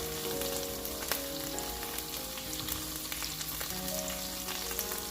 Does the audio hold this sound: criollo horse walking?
no